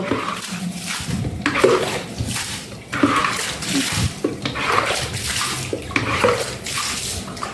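Floodwater rushing at night in Dhaka, heard from a fourth-floor home: a loud, continuous gushing wash of water with surging swells and no pauses.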